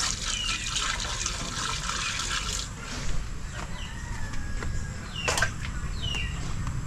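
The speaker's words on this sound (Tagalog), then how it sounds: "Bubuhusan ko para makita ni nanay." Water poured into a broken sink, a soft continuous splashing and trickling with a few brief sharp sounds, heard alone without talk.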